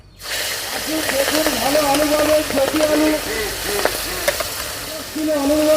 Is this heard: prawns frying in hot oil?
yes